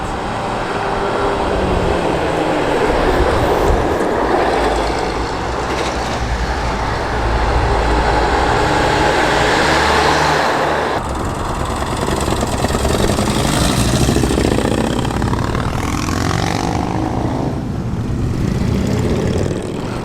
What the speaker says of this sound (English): Got a late arrival here, fantastic 1950s Leyland by the look of it.